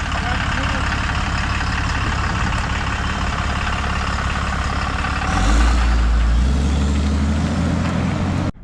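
A Ram pickup with a Cummins diesel rumbles loudly and close, its engine drone steady before a deeper, heavier surge as the truck pulls away, then cuts off abruptly.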